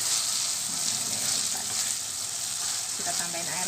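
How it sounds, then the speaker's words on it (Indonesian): Palm sugar and spices are stirred in a frying pan with a little added water, giving a steady, close sizzle and bubbling hiss with soft scraping from the stirring. "Aduk-adukkan tadi gula jawa tadi itu sampai gula jawanya larut"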